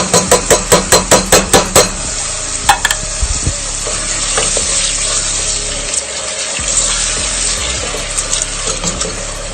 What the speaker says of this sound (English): So there's my black beans cooking,